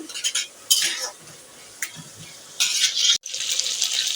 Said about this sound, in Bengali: এখন মশলা ভালো করে কষিয়ে নিব যাতে মশলার কোনো কাঁচা গন্ধ না থাকে